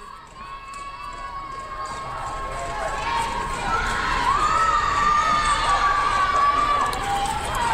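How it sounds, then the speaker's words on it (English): Fans on the Western Nebraska side cheer and shout at a Region IX softball tournament game against Lamar, a crowd roar that swells louder over several seconds, with a sustained whistle-like tone and voices mixed in. "Crowd making noise on the western Nebraska side."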